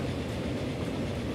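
A train in Transport Fever 2 slowing to cross a bridge, giving a steady, dense rolling rumble with faint clickety-clack and no pauses.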